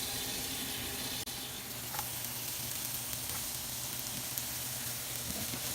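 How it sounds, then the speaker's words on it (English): Onions sizzle in a pan over medium-low heat, a dense continuous hiss of frying, close and steady, with one brief click early on and no voices. "I'm going to grab my onions and go ahead, throw that in there"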